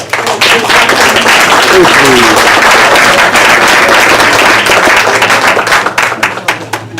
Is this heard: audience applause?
yes